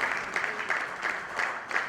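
An audience at a book launch applauds a standing mother, brisk clapping with a few louder pulses, fairly close and sustained across the moment.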